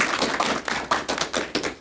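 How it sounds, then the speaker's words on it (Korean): Audience applause at a Buddhist monk's lecture: a brief run of clear, fairly regular hand claps, close and moderately loud, with no talking. "여러분 박수 부탁드릴게요"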